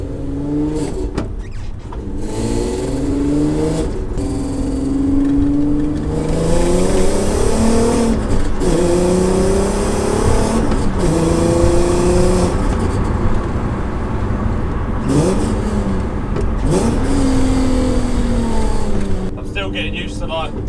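Nissan Skyline R32 track car cruising on the road, its engine a steady near drone rising and falling through gear changes, with people talking over it throughout.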